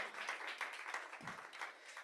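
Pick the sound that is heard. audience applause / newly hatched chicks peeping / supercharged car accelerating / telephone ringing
audience applause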